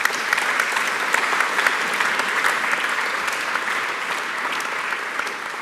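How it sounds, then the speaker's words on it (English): A conference awards ceremony crowd claps steadily and energetically, sustained applause filling the room without a break. "So give him a big applause."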